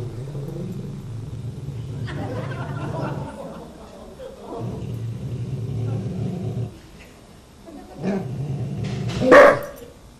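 A nervous, fearful dog gives a few loud, rough barks and growling rumbles in separate bursts, close by, ending in a sharp high yelp, with pauses of near silence between.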